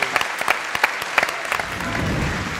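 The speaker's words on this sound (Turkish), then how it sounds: "Alkışlar sizlere." Studio audience applause after a performance of Ankara folk songs on a music show, starting as scattered distinct claps that build into a fuller, denser round.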